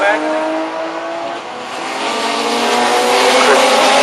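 BMW race cars in the Kumho BMW Championship cross the start-finish line at Snetterton circuit: a loud, continuous engine roar that swells slightly toward the end, with a voice speaking underneath.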